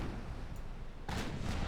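Naval guns firing in a dreadnought-era warship battle game, a deep booming salvo early on followed by a second, louder rumbling barrage near the end.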